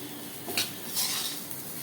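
A spoon scrapes and clinks in a pot of khichuri after salt goes in, two short metallic stirring scrapes close by over a faint background hiss.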